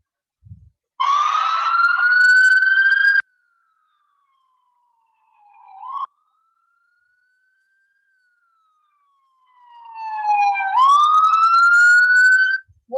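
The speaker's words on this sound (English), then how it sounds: "it was a siren sound, and siren sound could be of an ambulance, it could be of police car" A wailing siren rises and falls in long sweeping tones, fading out in the middle and then swelling loudly again, with no voices.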